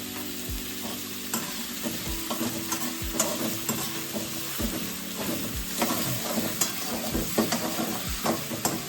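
Peas fry in oil in a wok with a pinch of salt, a continuous sizzle broken by regular scraping strokes of a spatula, close and fairly loud with no talking.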